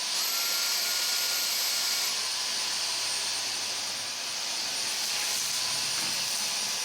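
Dyson Omni-Glide cordless stick vacuum on max suction, a loud, steady high-pitched whine whose pitch drops once early, running close and continuous.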